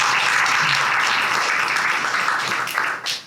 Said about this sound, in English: put your hands together for Simon Harris